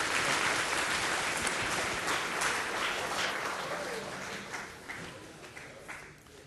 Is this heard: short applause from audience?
yes